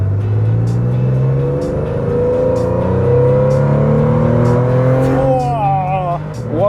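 A cheap used Porsche pulls away to start a lap of the Nurburgring, its engine revving up through repeated rising gear pulls and roaring close inside the cabin, while people talk over it.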